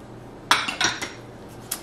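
Bath salts, baking soda and hemp seed oil being stirred in a bowl, giving a few close scraping clinks and gritty rattles in a short burst, then quieter taps, with no talking.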